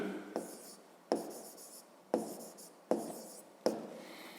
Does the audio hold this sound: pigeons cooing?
no